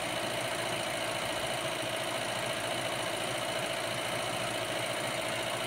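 Volvo 140 engine idling steadily during an ignition timing check, a constant close mechanical hum and rattle with no variation or talk.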